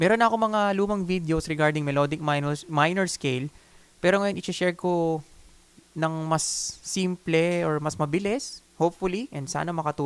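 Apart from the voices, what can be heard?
No everyday noise stands out behind the speech.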